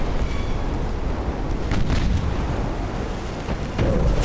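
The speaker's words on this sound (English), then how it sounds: "I don't think either one of us is going to avoid the torpedo." Torpedoes strike warships in the naval strategy game Ultimate Admiral, giving dull, rumbling explosive booms that roll on across the whole stretch with no voices over them.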